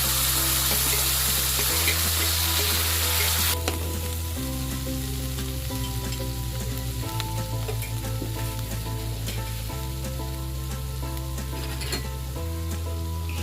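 A ground paste fries in oil with bay leaves, dry red chillies, cloves and cinnamon for an egg masala curry, giving a loud continuous sizzle with stirring throughout and music playing beneath it.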